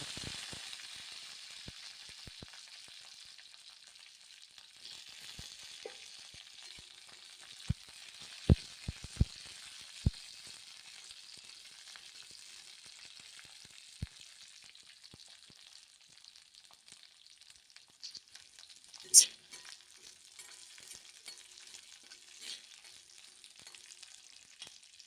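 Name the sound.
green chilies frying in oil in a kadai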